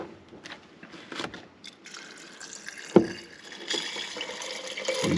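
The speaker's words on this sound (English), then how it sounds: "Add some non-chlorinated at least, or filtered water." Filtered, non-chlorinated water trickles and splashes into a sprouting jar, soft and close with irregular drips and one sharper knock of glass partway through.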